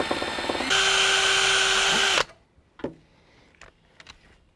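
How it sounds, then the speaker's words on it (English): A power drill bores a small pilot hole during an offroad hood strut installation, whining loudly at high speed for about two seconds and then stopping abruptly, followed by quiet clicks and tool handling. "And I'll start out making a small pilot hole."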